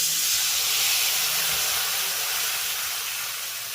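Steady, loud broadband sizzle and hiss from water added to a pan of frying spices and grated ginger. It holds continuously and fades only slightly toward the end.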